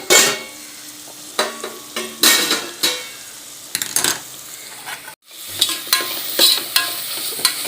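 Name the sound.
sautéing beef gravy in a pan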